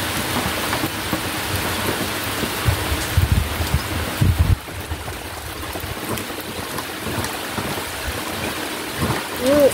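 A downpour of heavy rain roars steadily and close, with low rolling rumbles underneath and a brief faint voice now and then.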